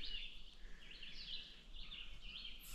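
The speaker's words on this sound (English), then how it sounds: "I don't know if you can hear all the birds" Birds sing outdoors around an off-grid cabin in Canada, faint repeated chirps and trills at a distance over a quiet background, with no voices.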